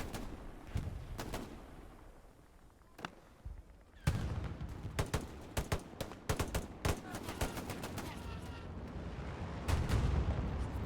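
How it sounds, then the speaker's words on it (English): Heavy booming blasts and rapid gunfire crackle in bursts from tank shelling in the video game Hell Let Loose, intensifying after a quieter start, with a dense barrage of impacts toward the end. "But the area is getting shelled by tanks"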